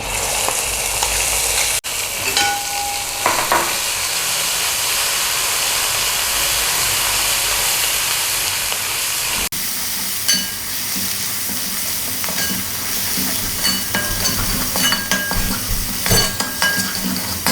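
Ground spice paste with Kashmiri chilli powder, hot chilli powder and turmeric sizzles loudly in a pan for a fish curry. A spoon scrapes and stirs it throughout, with occasional metallic clinks over the continuous frying hiss.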